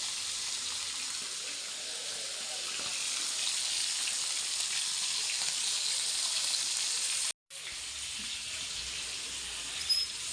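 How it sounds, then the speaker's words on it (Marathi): Spice masala frying in hot oil, a loud, dense, continuous hiss and crackle close up, briefly cut off near the end before resuming just as strong. "आता हे सगळं मसाला तेलात टाकून टाकते बघा तेल कसं आहे"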